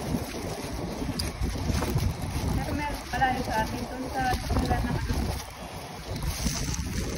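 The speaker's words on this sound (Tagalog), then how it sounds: "Lakas ng hangin" Steady, loud wind buffets the microphone outdoors, a constant roar with gusts, while people talk over it near water.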